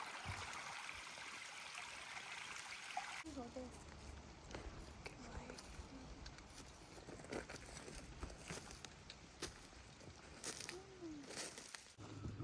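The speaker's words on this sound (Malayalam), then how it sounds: "അരുവി വരുന്നു മുകളിൽ നിന്ന്." A forest stream tumbling down from higher ground among hemlock and white pine in Cook Forest State Park, Pennsylvania, makes a steady trickling wash under nearby talk and scattered footsteps.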